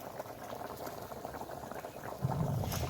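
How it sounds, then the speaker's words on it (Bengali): A fish and pointed gourd curry broth boils in a pot, giving off a continuous close bubbling and burbling that grows slightly louder toward the end. "দেখেন এদিকে ঝোলটা আমার ফুটে উঠেছে"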